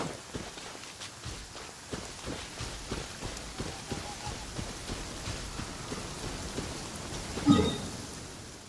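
Steady rain from the Genshin Impact video game patters continuously across a surface, with scattered drops and faint footstep-like taps throughout and a brief louder swell near the end, no voices present.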